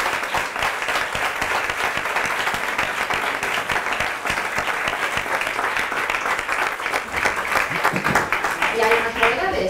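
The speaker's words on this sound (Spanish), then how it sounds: "os pido un aplauso para Noelia" An audience at a university teaching-innovation event applauds for engineer Noelia Valle, a steady wash of clapping from a full room that carries on for nearly ten seconds with little variation.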